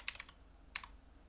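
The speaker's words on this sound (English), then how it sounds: "Oops, I was typing in the wrong screen, guys." Two short bursts of clicking keystrokes on a computer keyboard, quick rattling taps close by over a quiet background with a pause between them.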